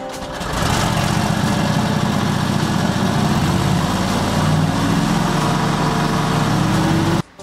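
A Lions Club CMS80 machine's engine idles steadily and loudly up close, a continuous low throbbing rumble with no talk, cutting off abruptly near the end.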